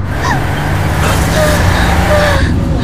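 Bus rolling along with failed brakes, a steady low engine and road rumble filling the background while voices call out over it.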